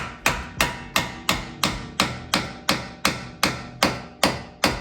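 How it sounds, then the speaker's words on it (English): Steady metallic hammer taps on a flathead screwdriver tightening a Subaru WRX coilover, about a dozen evenly spaced strikes in quick rhythm, close and sharp with short ringing decay, no voices. "use a flathead screwdriver and a hammer to really get this tight"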